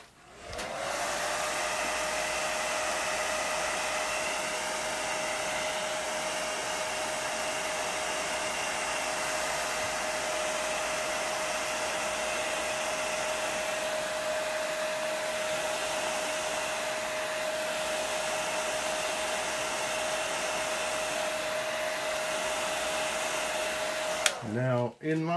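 A hair dryer runs steadily at close range for about 24 seconds, drying an acrylic paint wash, with a constant whine and airy rush before it cuts off at the end.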